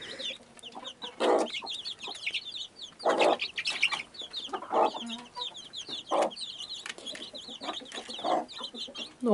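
A mother hen clucks repeatedly in low bursts while her brood of young chicks peeps constantly and high-pitched around her, close and lively.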